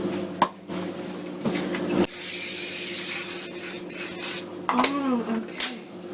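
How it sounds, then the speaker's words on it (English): Oil is sprayed from a can onto a lasagna dish in a home kitchen, a steady, close hiss lasting a couple of seconds between handling knocks and clatter. "Now I'm actually gonna spray it with the oil."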